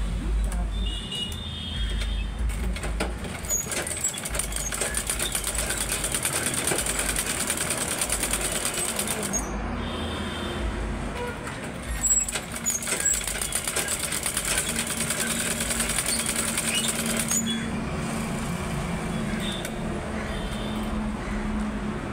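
A sewing machine stitches boat neck frill fabric in a tailoring session, its steady whirring running under a voice, pausing briefly twice before resuming.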